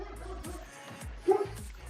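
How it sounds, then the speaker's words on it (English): Dog barking somewhere in the background, a short yip-like bark standing out briefly amid faint room noise and low voices. "I hear the dog."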